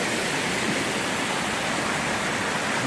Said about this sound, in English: I believe these are the Comer Creek Falls